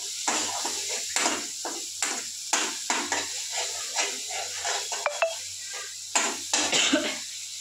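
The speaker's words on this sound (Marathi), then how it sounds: "मसाला परतून घ्यायचा" Homemade black masala stir-fried in hot oil in a home kitchen, a steady close crackle and sizzle with repeated scraping stirs of a spoon in the pan, no talking.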